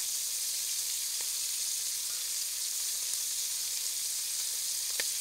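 Steak browning in a pan over medium heat gives a steady, even sizzle throughout, with a few faint pops and crackles; no one speaks.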